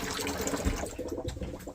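Steady rush of water pouring from a caravan tap, continuous and close, with a low gurgling undertone.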